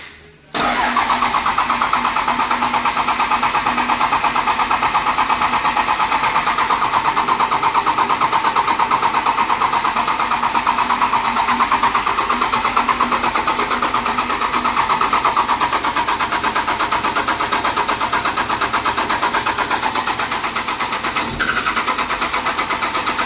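The starter on a 12-valve Cummins diesel in a little red dually pickup, fresh from a failed fuel pump, cranks loud and close for about twenty seconds in one unbroken whirring drone before cutting off.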